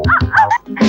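A dog gives a quick run of close, sharp barks and yips, three or four short bursts in under a second.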